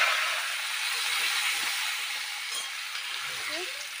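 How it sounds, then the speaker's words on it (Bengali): Cumin seeds sizzling in hot mustard oil in a wok, a steady bright frying hiss sustained throughout with a few faint clinks near the end. "কড়াই সর্ষের তেল গরম হয়ে গেছে তেলটার মধ্যেও জিরে ফোড়ন দিয়ে দিয়ে দিলাম"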